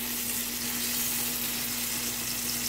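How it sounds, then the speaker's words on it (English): Chicken thighs sear in a pan of hot oil, giving a steady, close, even sizzle with continuous bright crackling and a faint constant hum, and no talking. "place them in this hot oil. You want to hear them sizzle."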